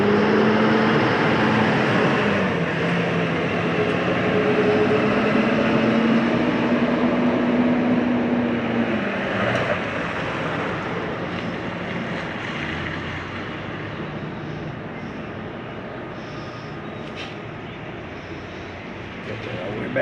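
Large RV awning on a Northpoint 387FBTS fifth-wheel retracting with a steady motor whine that shifts pitch before settling into a continuous hum, with someone talking over it.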